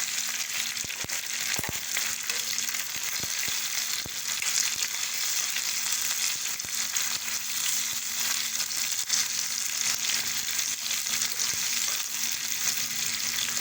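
Onion, curry leaves and chili frying in hot oil in a pan for sambar, a steady, close, dense sizzle with a few stirring knocks, with no talking.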